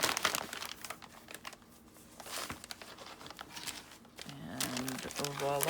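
Fabric being folded down along its edges for a junk-journal pocket, giving soft crinkling and rustling handling sounds at close range, with a quiet voice heard near the end.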